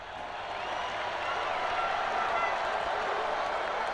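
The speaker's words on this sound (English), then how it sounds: "Here are the stars of the day enjoying a round of applause from the team and fans." Steady crowd applause with cheering in the video game MotoGP 19 at Motegi, a broad continuous roar of clapping that swells slightly and holds at a moderate level.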